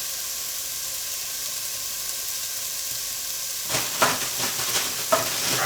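Frozen onions frying in a pan for chicken curry, a steady loud sizzle throughout, joined in the latter part by several sharp stirring scrapes and spits as they cook toward brown.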